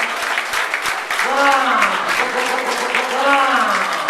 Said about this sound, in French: on peut applaudir très très fort Vincent Gaillard